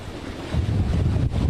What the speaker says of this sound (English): At one point, as I understand it, Gotti, you were experiencing roughly 60 mile per hour wind gusts.